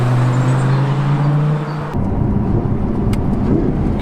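A car engine in sport mode drones steadily under load on an open road, then a gear change cuts in and the exhaust roars louder with broadband road and wind noise as it keeps accelerating.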